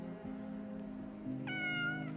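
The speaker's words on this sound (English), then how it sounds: "people think we keep these cats to clear the land's rats and mice." A cat meows loudly and close by, a sustained rising cry in the second half over a low steady hum, with no one speaking.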